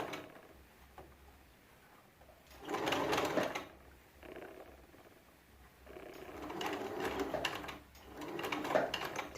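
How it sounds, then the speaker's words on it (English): A sewing machine stitches fabric while a zip is sewn in, with bursts of rapid, close mechanical whirring separated by quieter pauses. "switch it to the other side, and then continue stitching."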